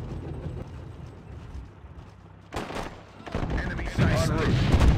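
Artillery in the strategy game Sudden Strike 2 fires with loud booming bursts that grow heavier toward the end, under a low battle rumble, while voices speak.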